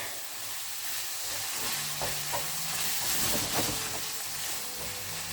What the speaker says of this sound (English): So we're going to put the tomato paste in there. Let it kind of cook away for a bit.